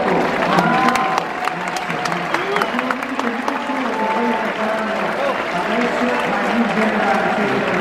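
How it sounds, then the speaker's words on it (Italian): Applause for firefighters at the Varia di Palmi festival, a large outdoor crowd clapping steadily and loudly with some cheering while a voice speaks over it. "Applauso per il lavoro dei vigili del fuoco."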